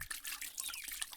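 Water is poured onto garden plants, a short close splashing trickle with small drips, brief and fairly faint.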